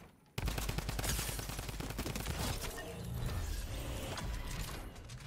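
Rapid drum gun fire in a Fortnite-style battle game, a loud continuous burst of automatic shots running nearly the whole time after a brief quiet start, with mechanical clatter mixed in.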